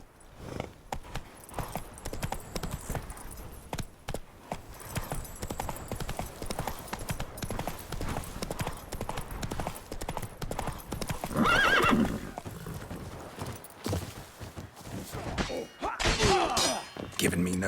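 Horse hooves clip-clop at a gallop with a sharp whinny partway through, inside the Witcher 3 game world; a loud, busy mix where hoof beats run steadily under music and ambience.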